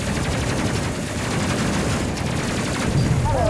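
Dense, rapid gunfire rattles without a break from a crew focusing fire in the space video game Space Crew, loud and close, with a few heavier bursts near the end.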